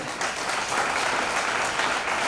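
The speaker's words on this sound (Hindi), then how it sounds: "मैं चाहता हूं इन सभी लोगों के लिए जोरदार तालियां होनी चाहिए।" An audience breaks into loud, sustained applause, many hands clapping densely and evenly from start to finish with no voices over it.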